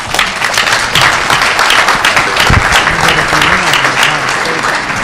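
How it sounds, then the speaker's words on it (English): A crowd at a Democratic congressional forum for the 3rd District applauds the candidates, with loud, dense, sustained clapping throughout and a faint voice underneath. "Let's give another round of applause for all the candidates coming out tonight"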